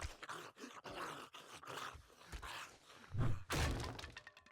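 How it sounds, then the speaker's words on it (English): A sledgehammer smashes a wooden door in a 7 Days to Die-style zombie video game, with a rapid series of heavy thuds and cracking breaks that peak near the end, fairly faint in the overall mix. "Just use the sledgehammer on this guy."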